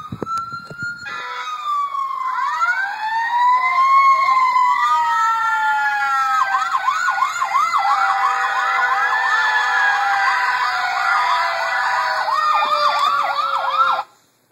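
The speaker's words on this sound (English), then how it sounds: "next we're going to try an actual siren and see if that activates the LEDs." An emergency vehicle siren plays back from an MP3 to test an LED siren detector. Loud rising and falling wails give way to a rapid repeating yelp, running steadily for about thirteen seconds with no voices.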